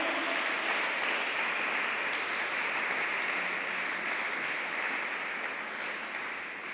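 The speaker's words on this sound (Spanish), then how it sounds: "¿Le puede dar un aplauso hacia el Señor?" Church congregation applauding during a Spanish-language sermon, a steady wash of clapping heard at moderate distance, continuous and fairly faint, with no voices.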